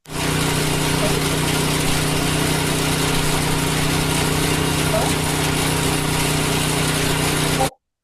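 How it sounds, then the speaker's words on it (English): Cement blender running steadily with a constant droning engine hum and rattle, loud and unbroken for several seconds before cutting off abruptly. "we recorded a cement blender"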